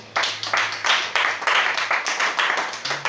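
A church congregation bursts into rhythmic clapping during a worship service, a steady run of sharp, close, loud claps sustained throughout with a low hum underneath.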